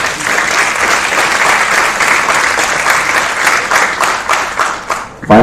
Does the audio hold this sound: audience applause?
yes